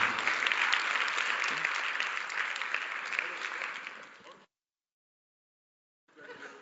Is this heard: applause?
yes